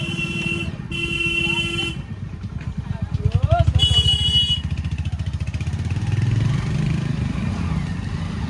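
A motorbike rolls into a parking area near the Red Fort, its engine chugging and revving steadily while horns toot nearby and people talk over the traffic.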